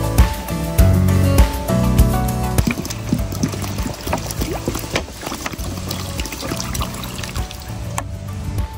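Water pours into an animal drinking trough during a dry season, a loud splashing gush at first that settles into a steady trickle and fill, with occasional knocks and clunks from handling.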